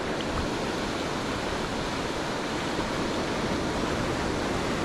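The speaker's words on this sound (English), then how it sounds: "waves are starting to move in a little bit" Broad continuous wash of ocean surf breaking on a Carlsbad beach while surf fishing, a steady rushing roar with no voices.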